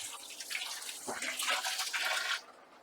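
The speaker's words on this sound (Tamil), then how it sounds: "ஒரு தாட்டி நல்லா அலசிட்டு அப்படியே சாப்பாடு போட்டுருவோம்" Tap water runs and splashes onto a dog's food plate as it is rinsed, a steady hissing stream for about two seconds that then cuts off abruptly.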